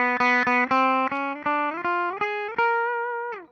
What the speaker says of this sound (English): You hear how it's not clear like the E? There's like a sitar-like buzz.